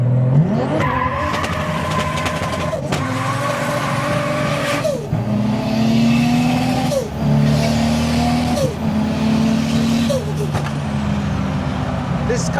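A BMW E46 with a swapped LS V8 on ECU Master management revs hard and loud, with repeated throttle blips rising and falling over a steady rumbling idle, and faint voices in the background.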